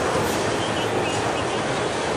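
A slow freight train passes near Jenkinsburg, Georgia, by a highway with backed-up traffic, giving a steady, loud broadband rumble and rolling rail noise that holds evenly throughout, close by and with no voices.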